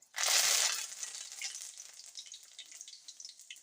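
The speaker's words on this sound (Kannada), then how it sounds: "ಈಗ ಕರಿಬೇವು ಹಾಕಿರ್ತೀನಿ ನೋಡ್ರಿ." Curry leaves dropped into hot oil for tempering capsicum palya give a loud, sudden burst of sizzling. The sizzle then settles into a steady, softer crackle close by.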